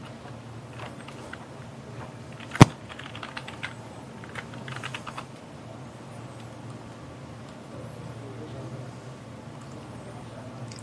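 Login credentials are typed on a computer keyboard while logging into a server, a run of soft quick key clicks with one sharp louder keystroke early on, fairly close and without talk.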